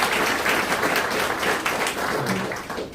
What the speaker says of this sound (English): So give her another round of applause